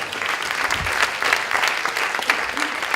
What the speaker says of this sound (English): Let's give it a round of applause for that one.